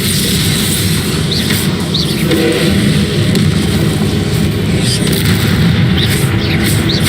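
Repeated deep booming blasts from a Confringo fire spell in Hogwarts Legacy, rumbling continuously and loudly through the whole stretch with no voices.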